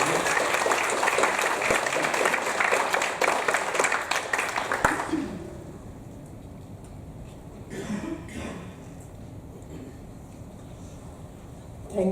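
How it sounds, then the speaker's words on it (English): Audience applause at a conference plenary session, a steady, full round of clapping for about five seconds that stops abruptly, followed by a hushed hall with a few coughs and rustles. "Can I get everyone to applaud?"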